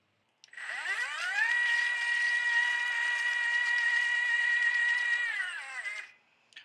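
Milwaukee MX FUEL battery-powered walk-behind concrete trowel spinning up, holding a steady whining motor hum for several seconds, then winding down and stopping.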